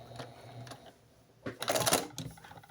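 A sewing machine back-tacks a curved seam with a short, close mechanical whirr of stitching that starts and stops quickly after a quiet lead-in.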